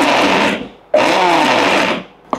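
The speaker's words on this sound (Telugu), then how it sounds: "ఒక్కసారి ఇప్పుడు పల్స్లో తిప్పండి." A mixer grinder pulses peanuts, onion, tomato and coriander for chutney, two loud whirring bursts separated by a short pause, then a brief click at the end.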